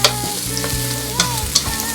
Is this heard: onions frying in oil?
yes